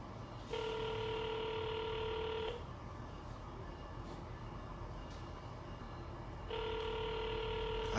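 A telephone call rings out unanswered: two evenly spaced bursts of a steady electronic ring tone separated by a long silent gap, heard over a low background rumble.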